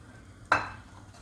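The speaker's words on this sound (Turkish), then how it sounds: "Bamyamı bir iki kere karıştırarak biraz sarartıyorum zeytinyağında." A single quick clatter of a utensil stirring okra in olive oil in a pan, a brief, moderately close scrape-and-clink standing alone against a quiet background.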